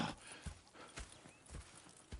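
Horse hooves clip-clop in Red Dead Redemption 2, steady and fairly close with a few regular footfalls, and a faint whinny may show among them.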